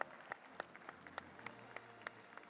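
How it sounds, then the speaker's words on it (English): A round of applause from the audience at a live-streamed FOGSI event, heard as faint, distant, scattered claps with a few sharper individual ones standing out. "Give it up all, ladies and gentlemen, a huge, huge round of applause."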